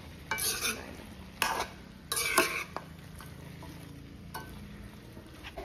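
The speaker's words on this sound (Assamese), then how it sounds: "গোটেইখিনি ধুনীয়াকৈ মই মিক্স কৰিলোঁ" Boiled chicken and potatoes being stirred in a pan: several sharp scraping and clinking strokes of a spoon against metal, close and fairly quiet, over a faint steady sizzle, with no speech.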